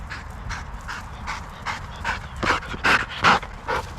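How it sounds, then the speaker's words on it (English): Black lab and golden retriever mix dog panting close by, a run of quick, breathy huffs that grow louder and more uneven toward the end, with no talking. "I said I have a black lab and golden retriever mix"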